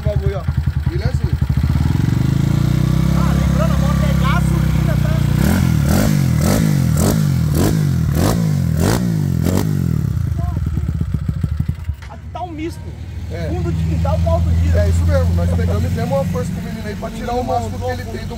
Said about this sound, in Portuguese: vamos ligar pra ver a moto. Vamos ver a primeira partida do dia, motor geladão